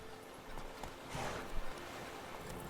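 Horse galloping in the Witcher 3 video game, a soft rhythmic clip-clop of hooves under a wash of ambient noise, growing briefly louder near the middle before easing off.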